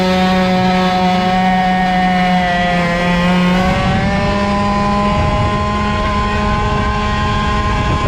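A small Airsal CPI 70 boosted kart engine runs steadily at a high idle, loud and close, with a constant buzzing drone whose pitch rises and wavers slightly partway through.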